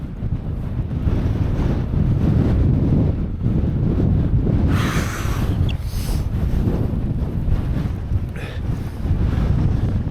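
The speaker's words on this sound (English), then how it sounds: "It's windy." Strong wind on a hilltop in the Cheviots, about 715 metres up, buffets the microphone with a constant low roar and gusty rumble, no voices heard.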